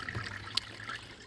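Water trickles steadily from the top of a filter down into the next bin below, a soft, close, continuous dribble with one brief splashy accent and no voices.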